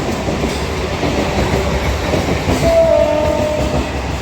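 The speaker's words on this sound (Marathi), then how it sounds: "हे बघा माझी लोकल आलेली आहे" A fast local train pulls into a quiet platform with a loud, steady rumble of wheels and carriages, and a short horn sounds partway through, close and without talk.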